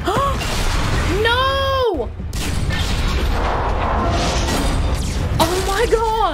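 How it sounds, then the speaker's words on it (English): Starship fleet weapons fire in Mass Effect 3, with rumbling booms and bursts of gunfire under dramatic music, rising and falling tones and a sudden cut near the middle, with excited voices talking over the action. "the creator fleet is firing upon this vessel"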